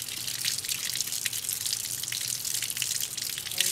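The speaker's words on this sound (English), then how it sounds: "And then you're just going to rinse it off" Tap water runs steadily over a gesso-coated panty hose sculpture being rinsed in a sink, a continuous close splashing hiss with small drips throughout.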